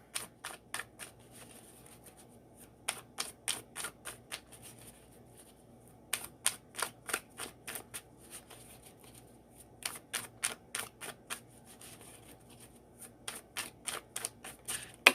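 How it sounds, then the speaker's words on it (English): Oracle cards from decks are shuffled by hand in quick bursts of crisp riffling flicks, pausing between rounds, close and with no talk. "So let's get some advice cards from the Oracle decks."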